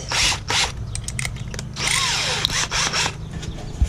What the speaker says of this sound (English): And then screw it. So have a screw handy and the bit